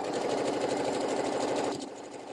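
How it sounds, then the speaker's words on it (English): A sewing machine runs steadily off the edge of fabric while making a table mat, a dense continuous mechanical whir that drops in level near the end as the stitching slows. "Now I'm just sewing off the edge and cutting it"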